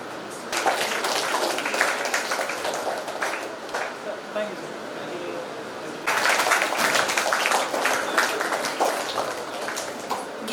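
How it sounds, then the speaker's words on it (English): An audience at an academic honoring ceremony applauds, a sustained broadband clapping that runs the full length, swelling again partway through, with a voice speaking faintly underneath. "Give a big round of applause"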